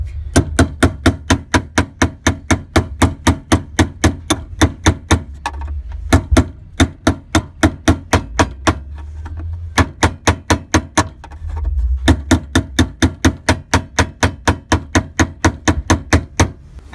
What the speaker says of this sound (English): We're using a makeshift hammer and just hammering it out.